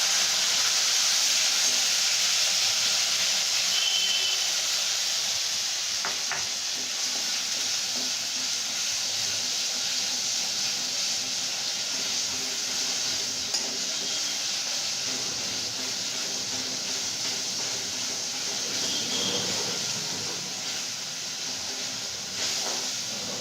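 Onion paste goes into a hot pan for chicken patiala, producing a loud, dense, steady sizzle and steamy hiss that holds throughout with only slight variation.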